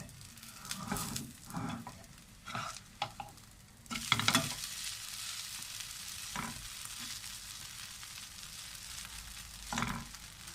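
Oats roti cooking in a pan, with a soft continuous sizzle and a few louder scraping, turning sounds early on.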